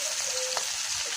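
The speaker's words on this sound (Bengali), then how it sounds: "এর বিচি ভাজা হয়ে গেছে।" Bottle gourd seeds fry in a pan with a steady, close sizzle, broken by a brief stirring clatter near the middle.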